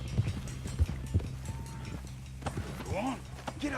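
Horse hooves clip-clopping at a run in Red Dead Redemption 2, with a steady beat of thuds under game music and talk, and a whinny-like rising tone near the end.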